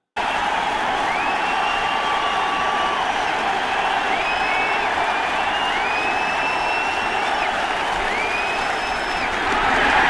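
A large stadium crowd at Yankee Stadium roars in a steady, dense wash of cheering and applause after the first pitch, with whistles and whoops rising above it throughout the whole stretch.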